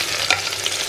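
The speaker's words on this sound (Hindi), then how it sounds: "और अब मैं इसमें डाल देती हूँ प्याज" Chopped onions sizzle and are stirred in hot oil with cumin in a pressure cooker, a close, steady crackling hiss broken by scraping stirs.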